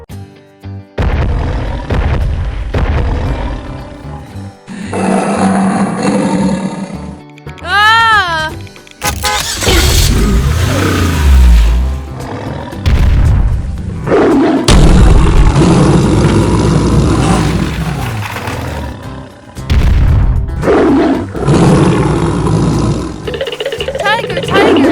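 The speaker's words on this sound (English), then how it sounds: "Oh no! It's a tiger!" A cartoon tiger gives loud, rough roars in long bursts amid a busy mix of music and effects, with a voice exclaiming alongside.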